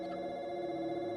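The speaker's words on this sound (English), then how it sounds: "the phone rung" A telephone rings in a tense office scene of a crime drama TV series, a steady electronic ring held at a constant level throughout, with no talk over it.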